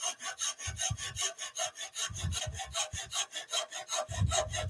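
A tool cuts a slender wooden magic wand turning on a lathe, the long timber flexing; close, steady rasping strokes repeat rhythmically about three times a second throughout.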